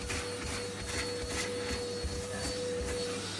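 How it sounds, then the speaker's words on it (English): Vacuum cleaner running while a bedroom is cleaned, a steady droning hum with a constant whine and faint rhythmic pulses as it is pushed back and forth, alone and moderately quiet. "This is basically turning into a bit of a vacuuming video, isn't it?"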